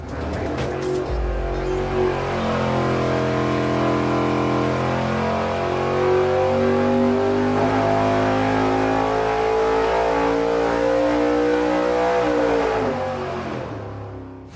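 An engine fitted with a nitrous plate kit jetted for a 275 shot roars on a dyno, climbing steadily in pitch through a long, loud, close pull before cutting off at the end.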